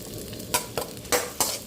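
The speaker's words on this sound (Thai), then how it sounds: "เราเอากระทะใส่น้ำมันตั้งไฟ แล้วก็ตักพริกใส่ลงไปเจียวครับ" Chilies fry in oil that sizzles steadily in a pan, with several scraping stirs at irregular moments.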